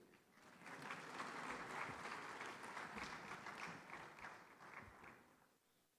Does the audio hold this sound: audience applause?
yes